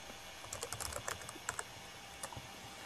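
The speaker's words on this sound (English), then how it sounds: "you type in your password to go in there again" A password being typed on a computer keyboard: a quick, irregular run of light clicking keystrokes, close and faint, with a short pause before a final few taps.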